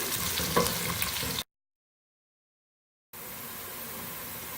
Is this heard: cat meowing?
no